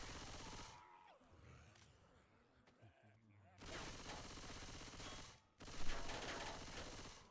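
Rapid Uzi and shotgun gunfire in the Left 4 Dead video game, loud dense bursts crowding the clip, with a quieter stretch partway through and a voice talking under the shooting.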